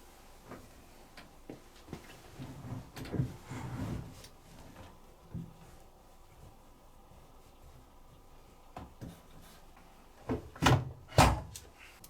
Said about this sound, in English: to open your drawer, this pushes in, fingers underneath, it pulls out